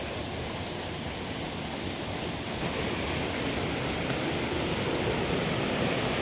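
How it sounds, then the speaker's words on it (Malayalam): Steady rushing of a hillside stream flowing beside railed walking steps up toward a waterfall area at Courtallam, a dense continuous wash of water heard close and fairly loud throughout, without speech. "സൈഡിൽ കൂടെ മൊത്തം വെള്ളം ഒഴുകി വരുവാണ്. തോടാണ്."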